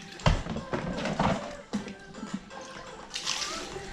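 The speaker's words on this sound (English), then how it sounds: "Let's tip the water first." Water tipped out of a horse's bucket at a stable, splashing and pouring in a few bursts with some handling noise, fairly close.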